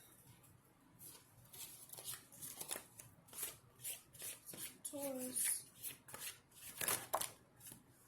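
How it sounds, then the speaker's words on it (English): Oracle cards are shuffled by hand in repeated soft riffling bursts at a close, quiet level, with a voice speaking briefly in between. "I shuffled these cards"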